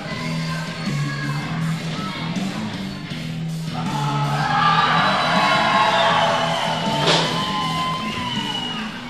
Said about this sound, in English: the crowd just blew off the ceiling whenever he come out through the curtain